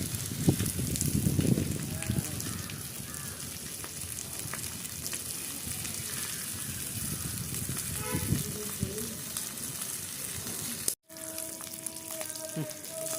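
Fish fries in hot oil with a steady, close sizzle and crackle that swells briefly near the start, then hisses on evenly with a short break near the end.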